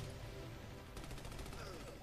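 Rapid gunfire in the video game Army of Two: The Devil's Cartel: a dense, continuous barrage of shots that grows sharper and more rattling after the first second and sounds close and loud throughout.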